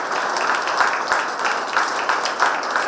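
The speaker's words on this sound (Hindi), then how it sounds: "जोरदार तालियां इसके लिए।" Steady, continuous clapping from an audience rewarding a girl's correct answer on a televised community show in Nagpur, with no voices heard over it.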